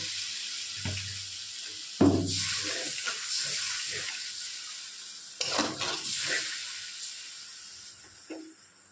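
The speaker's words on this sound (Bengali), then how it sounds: "জলটা একটু ফুটে উঠেছে" Water that has just come to a boil in a scorched wok while pointed gourd is being cooked, with bursts of hissing and bubbling, a couple of sharp clatters and splashes, fairly quiet overall and without speech.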